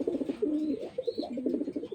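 Racing pigeons of a top-quality pair coo in short repeated throaty rolls, close and fairly clear, with a few faint higher chirps in the background.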